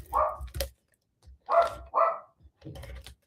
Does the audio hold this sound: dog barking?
yes